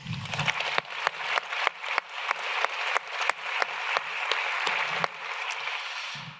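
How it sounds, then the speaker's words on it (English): A crowd claps steadily, dense applause filling the room with a few sharp, louder claps standing out, then tapering off at the end. "Can we get another round of applause for them?"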